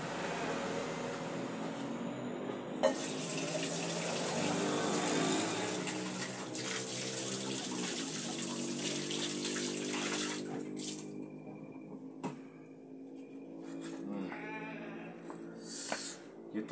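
Water poured in a steady gushing stream into a metal-bearing waste mixture during a basic leaching process, continuous for about ten seconds before tapering into lighter trickles.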